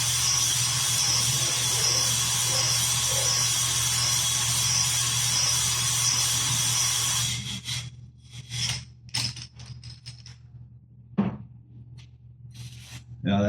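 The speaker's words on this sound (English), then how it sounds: "So we're just using a fairly low speed and just consistently moving up and down. Get a nice even hone on those cylinder walls." An engine's cylinder walls are honed at low speed with a steady up-and-down motion, giving a continuous abrasive grinding whir that stops midway, followed by scattered scraping and handling noises.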